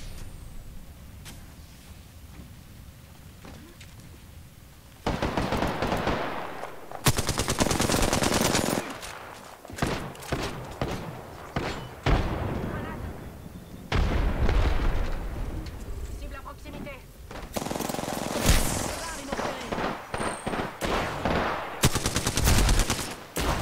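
Gunfire in the battle royale game Apex Legends: bursts of rapid automatic shots and heavier blasts come in loud clusters after a quieter opening, with French-speaking character voices talking in between.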